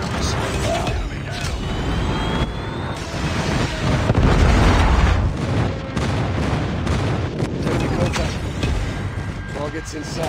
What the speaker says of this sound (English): Friendly airstrike incoming. Friendly predator missile inbound.